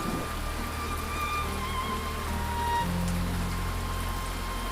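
Steady rain falls throughout, a dense even hiss with a low rumble beneath and no voices.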